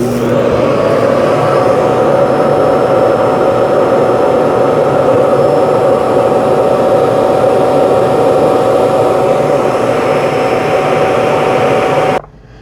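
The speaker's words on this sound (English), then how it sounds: "Emptying dustbin." A Roborock Q Revo dock emptying the robot vacuum's dustbin gives a loud, steady whooshing suction roar, close and continuous for about twelve seconds before cutting off abruptly.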